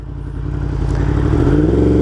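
Yamaha R1M sport motorcycle running in GP shift mode with a loud exhaust, its engine droning steadily and swelling gradually louder, heard close and alone with no talk.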